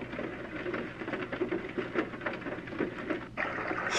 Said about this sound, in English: Rain on window.